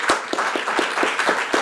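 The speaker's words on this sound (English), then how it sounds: "This is a very big round of applause to the panelists." A large conference audience applauds panelists at a human-rights side event, steady overlapping claps with sharp regular peaks, close and moderately loud, with no voices over it.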